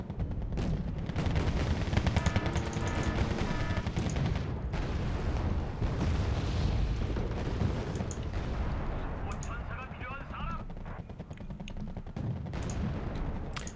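Battle in Wargame: Red Dragon as French tanks fight in a city, with dense overlapping gunfire, heavy cannon blasts and explosions that keep up without pause, loud and close.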